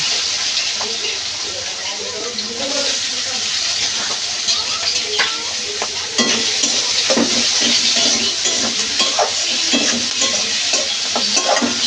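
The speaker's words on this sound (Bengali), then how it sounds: "পেঁয়াজগুলো একটু হালকা লাল লাল করে ভাজি করে নেব।" Chopped onions with cardamom and cinnamon fry in crab-frying oil, sizzling continuously up close while a utensil stirs and scrapes the pan; the sizzle grows a little louder partway through.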